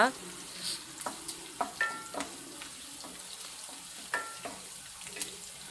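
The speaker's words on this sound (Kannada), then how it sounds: "ಒಟ್ಟಿಗೆ ಹಾಕಿಬಿಟ್ಟು ಫ್ರೈ ಮಾಡ್ಕೊಳ್ಳೋಣ ನೋಡಿ ಇವಾಗ ಫ್ರೈ ಮಾಡುವ" Chicken with pepper masala and green chillies fries in a pan, giving a soft sizzle broken by sharp clinks and scrapes of stirring at an irregular pace, fairly quiet and close.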